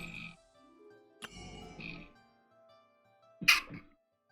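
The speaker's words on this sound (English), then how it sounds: "I gotta sneeze." A single sharp sneeze bursts out near the end, loud and close, after stretches of quiet low sounds and a soft thump.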